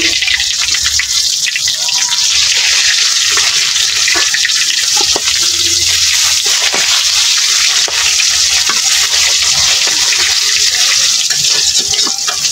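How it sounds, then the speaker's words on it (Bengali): Fish sizzling steadily in a pan of hot oil as it fries until crisp, a loud, continuous hiss with small pops and crackles running unbroken throughout. "কড়া করে ভাজা দিলাম।"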